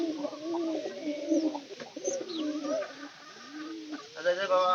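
Pigeons coo repeatedly in low rolling calls at close range, with a brief higher chirp near the end, in a rooftop pigeon loft at dawn in hot summer weather.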